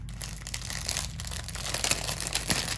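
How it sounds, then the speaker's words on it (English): Plastic bag crinkling while a bead haul is unboxed, a dense, continuous rustle with sharper crackling bursts throughout, close and fairly loud with no voice. "I know the crinkling's a little loud sometimes."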